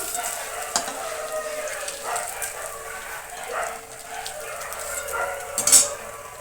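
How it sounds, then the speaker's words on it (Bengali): Paneer pieces frying in oil in a wok until lightly reddened produce a continuous, moderately loud sizzle with occasional utensil scrapes and a brief sharp sound near the end. "এই যে হালকা হালকা লাল লাল করে ভেজে নিচ্ছি পনিরগুলো"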